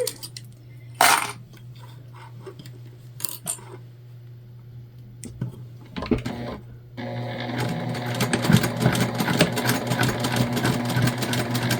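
A sewing machine runs a seam across the bottom of a quilted pouch at a 3/8 inch seam allowance, a low motor hum with scattered clicks giving way to a dense, continuous rattle of stitching, close by.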